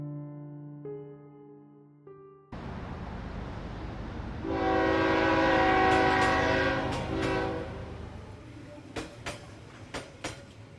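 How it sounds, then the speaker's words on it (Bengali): A train runs along the tracks past houses, bridges and fields. A long horn sounds at the start, then a rolling rumble builds. A second, louder drawn-out horn blast follows, ending in sharp clatters as the carriages rattle past. "উঠোন, বাড়ি, ব্রিজ, ফসলি ক্ষেতের পাশ দিয়ে ঝকঝক করে ছুটে চলেছে আমাদের ট্রেন"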